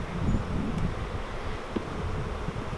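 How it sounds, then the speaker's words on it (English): Honey bees buzzing around an open nuc hive during a spring inspection, a steady close hum with soft rustling and light wind, no voices. "There's a lot of new bees"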